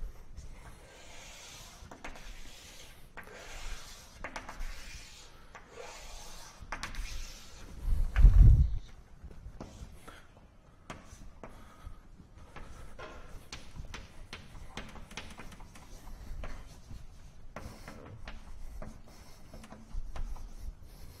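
Chalk taps and scrapes across a blackboard during a mathematics lecture, giving a series of faint, irregular strokes and clicks in a quiet room with a brief louder thump partway through.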